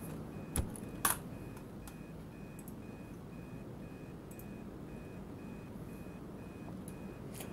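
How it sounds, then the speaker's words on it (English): Alarm clocks ring in the ghost-hunting game Obsideo, a faint, steady repeating electronic beep pattern pulsing far off over low background rumble, with a couple of brief clicks. "Ringing alarm clocks."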